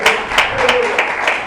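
Congregation clapping in a church, a short burst of loud, fairly regular claps in a steady rhythm, with voices faintly underneath.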